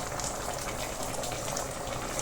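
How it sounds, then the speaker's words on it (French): Peanut sauce simmers in a covered pot with crushed ingredients and water, giving a steady, even bubbling hiss that holds at a constant level throughout, with no voices. "Je vais recouvrir ma marmite et laisser mijoter environ 10 à 15 minutes."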